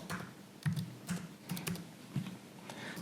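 Quiet keystrokes on a computer keyboard come in a loose, irregular run of soft clicks, close but low in level, with no talking over them.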